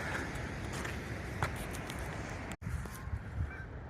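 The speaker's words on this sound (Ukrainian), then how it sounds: "Тут гуси ходять, які гарні гусаки." Geese honk a few times amid steady outdoor background noise in Ottawa in winter, the calls moderately close and irregular, with a brief dropout partway through.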